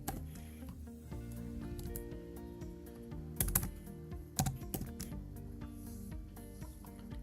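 Digits are tapped out on a computer keyboard in a series of quiet, close key clicks, with a couple of slightly louder presses partway through and no talking.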